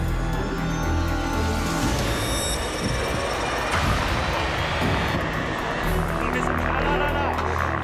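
A helicopter with its lone pilot flies over the Pleney ski area at Morzine, a steady loud rotor and engine roar that swells and shifts continuously throughout.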